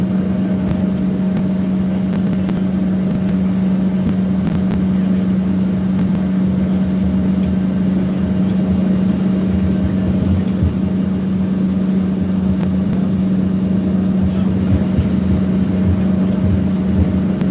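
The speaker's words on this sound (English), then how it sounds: "This airport's pretty busy today." At a busy airport in Broomfield, Colorado, aircraft engines produce a loud, constant droning hum with a steady low tone. It runs unbroken for the whole stretch, and nobody speaks.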